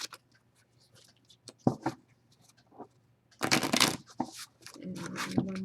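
Large Gothic Tarot cards are shuffled by hand, with scattered soft riffles and taps building to a dense, loud flurry of card slaps near the end.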